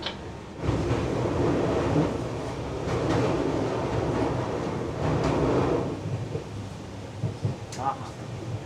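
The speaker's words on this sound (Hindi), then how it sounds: "तो स्टेशन से निकलते ही हम यहाँ थोड़ी सी रफ्तार पकड़ लेते हैं।" Passenger train pulls out of Mulkhang station on the Sairang–Bairabi line in Mizoram, a steady rumbling and rattling ride from on board, gaining a little speed, with a few wheel clacks toward the end.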